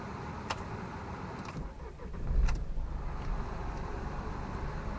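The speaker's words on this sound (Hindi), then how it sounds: "एक बार गाड़ी स्टार्ट कर लेता हूँ" A Mahindra Bolero Neo SUV engine cranks and catches with a brief rising surge, then settles into a steady, low idle rumble heard from inside the cabin, with no talking.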